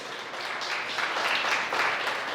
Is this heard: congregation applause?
yes